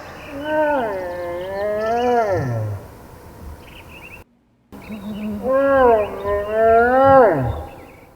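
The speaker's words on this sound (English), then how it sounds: "Bear huffs." A bear gives two long, drawn-out groaning calls separated by a brief silence, deep and resonant, fairly close.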